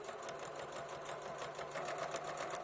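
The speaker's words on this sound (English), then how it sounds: "So I just want to hold them together with a little scant 1/4 inch seam" A sewing machine runs steadily, stitching a scant quarter-inch seam to hold fabric layers together for the lining of a quilted mitt; a continuous, even mechanical whir with rapid needle ticking, close and alone.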